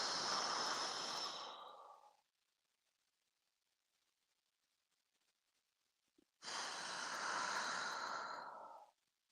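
Two long, slow breaths during a qi gong exercise, each a soft airy whoosh lasting about two seconds, close to the listener, separated by a long quiet pause.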